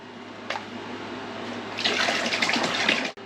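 Distilled water poured from a jug into a car's cooling system, a quiet start then a louder gurgling, glugging flow that cuts off abruptly near the end.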